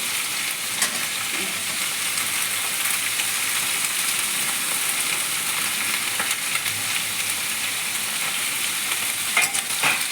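Onion stalks frying in a pan, a steady, close sizzle with bright hiss and occasional pops and stirring scrapes, with no talk.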